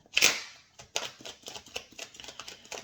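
Tarot cards are shuffled by hand in quiet, close, crisp flicking bursts, one louder riffle at the start followed by a steady run of soft card snaps.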